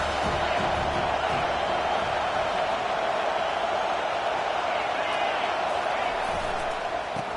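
A football stadium crowd at a college game, Florida State against Miami, roaring in a steady, dense wall of cheering that holds loud and unbroken throughout, with no distinct voices standing out.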